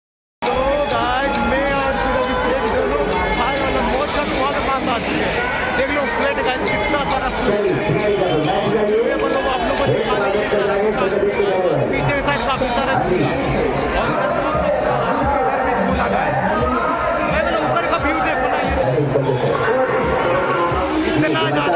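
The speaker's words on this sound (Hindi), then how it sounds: "इतना ज़्यादा भीड़ मेरे को समझ में नहीं आ रहा है, इतना भीड़ कैसे यार" Dense crowd chatter fills the Rajgir Malmas Mela fair grounds, a loud continuous babble of many voices close by with a nearby speaker talking over the noise throughout.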